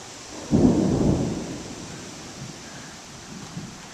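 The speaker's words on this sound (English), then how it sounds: "Good lightning storm here went through." Thunder from a lightning storm passing over: one deep rumble swells up and rolls away over a couple of seconds, leaving a soft wash of rain-like noise and faint later grumbles.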